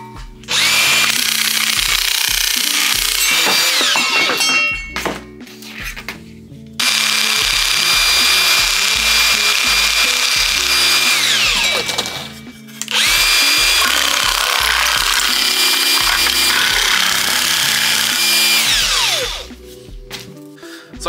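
A Makita DJN161 cordless nibbler chews through sheet metal in three long, loud, harsh bursts of rapid chattering, each one ending in a short pause or the motor winding down, close up and without speech.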